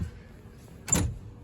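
A drawer sliding open inside a 2018 Four Winds 24F camper, one brief close rumbling slide with a light clack, against quiet room tone, no talking.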